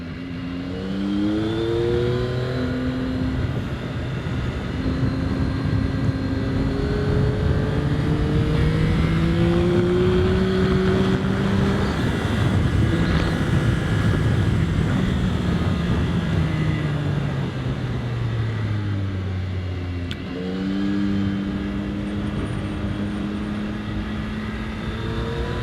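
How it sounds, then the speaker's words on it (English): A Yamaha R9 motorcycle on a race track, its engine revving up through the gears again and again with rising pitch sweeps, loud and close, then a brief dip and another climb. "And the engine is just so eager."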